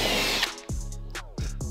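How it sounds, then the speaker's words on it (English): Power drill boring holes into a Porsche 911 bumper during a custom GT3 bumper conversion on a 996 Turbo, heard as three close, loud whining bursts, each spinning up, running briefly and stopping abruptly. "All the main drill holes have been made."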